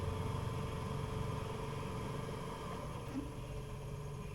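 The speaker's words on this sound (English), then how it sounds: "You can hear the blower going." Heater blower motor running in a 1964 International Harvester Travelall, a steady, faint, continuous whirring hum with no change in pitch or level throughout and no talking.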